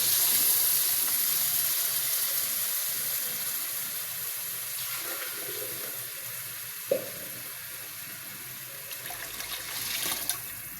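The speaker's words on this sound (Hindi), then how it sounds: "अब वक्त हो गया इसमें पानी ऐड करने का।" Water poured into a pot of chickpea pulao cooking over high heat, a steady rushing hiss that fills the pot for about ten seconds, with a couple of light clinks near the end.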